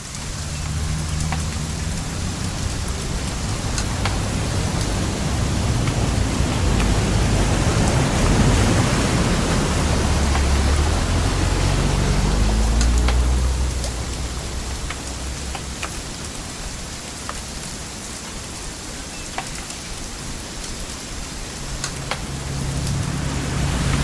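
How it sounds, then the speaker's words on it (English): Steady heavy rainfall in the video game What Remains of Edith Finch pours down continuously, with a deep rumble swelling in the middle before easing back to a constant patter. "It's gonna rain the whole weekend, isn't it?"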